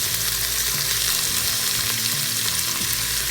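Chunks of beef, fat side down, sear in a warm pan for pressure cooker beef and noodles, producing a loud, continuous close-up sizzle and crackle with a low hum underneath.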